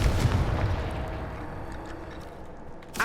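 Blasting spell in Hogwarts Legacy fires with a heavy booming explosion up front, its rumbling tail fading over a few seconds before a short crackling burst at the end.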